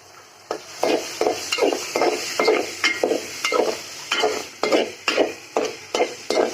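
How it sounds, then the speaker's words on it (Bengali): Vegetables frying in a pan, with a loud sizzle that swells in rhythmic bursts as they are stirred and tossed repeatedly, plus faint utensil scrapes. "তো আমি এই যে ভেজে নিচ্ছি"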